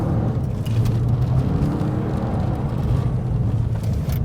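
Subaru rally car engine, a GT or Forester Turbo, droning loud and steady with a low rumble that lifts slightly as the throttle comes back on.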